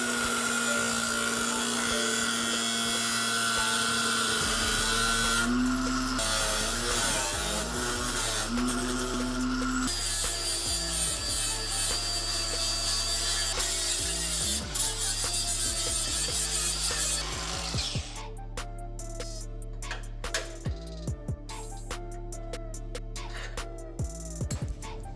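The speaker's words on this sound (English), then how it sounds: "I think I'll take the big cutting wheel and just try to nip these tabs off" Large cutting wheel on a grinder nipping off metal tabs on a first-gen Toyota Sequoia or Tundra frame: a loud, sustained whine with brief dips in pitch, turning to a rougher, crackling grind near the end.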